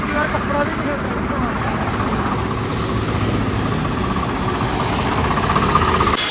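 A tractor engine idles nearby with a steady, chugging mid-pitched rumble, hot with smoke coming from the silencer, and voices talk over it.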